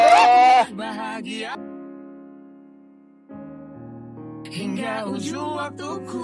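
A goat bleats in a few drawn-out wavering cries, the first loud and close, then fainter tonal calls trailing off before another loud burst of bleating.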